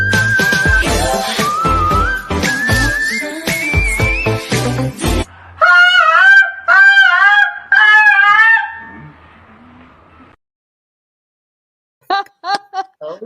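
Bird calls from a commercial played aloud, repeated loud honking, goose-like cries in short bursts after a busy music-like opening, with a few more calls near the end.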